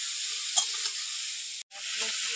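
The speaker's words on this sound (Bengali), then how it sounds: "এবার ভালো করে কষিয়ে নেব।" Bottle gourd greens with turmeric and chili powder sizzle steadily in a pan as they are stirred, a soft continuous frying hiss with a brief dropout near the end.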